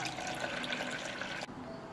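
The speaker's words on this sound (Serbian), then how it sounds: "Zatim sipam u šerpu toplu vodu do visine poklopca" Warm water pours steadily into a pot holding glass jars set on a cloth, a continuous splashing fill that cuts off abruptly near the end.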